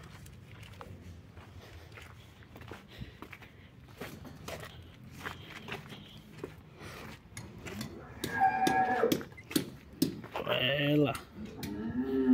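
Cattle lowing in a slaughterhouse corral, several loud, drawn-out moos rising near the end over shuffling hooves and yard noise, with people talking and calling out nearby.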